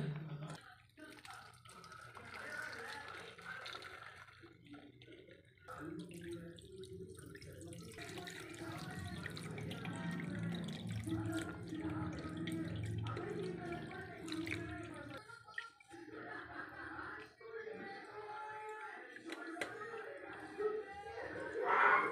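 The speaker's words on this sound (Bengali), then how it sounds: "ছানাটাকে ধুয়ে নিলি, পুরো জলটা একদম ভালো করে নিগড়ে দিলি না" Water runs from a tap while freshly split milk curds (chhana) are washed in a kitchen, a soft continuous splashing with drips, faint and under steady talking.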